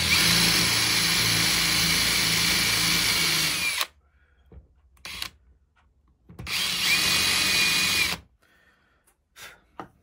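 A power drill bores a 6 mm hole into a wooden base for a dowel, with two loud sustained bursts of whirring separated by quiet gaps.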